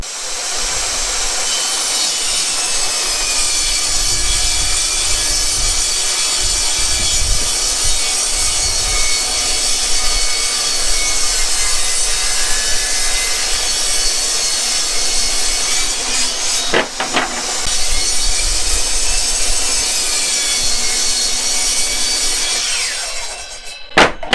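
A table saw, either a Ridgid or a Kobalt model, cuts through wood with a loud, continuous, high whine that holds steady for over twenty seconds, heard up close, then winds down at the end.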